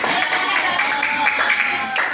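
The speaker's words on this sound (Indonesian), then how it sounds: "Oke, tepuk tangan dulu nih semuanya." Children in a Year 5 classroom clap hands together in a quick, irregular patter, close and fairly loud, mixed with a steady wash of background noise and some voices.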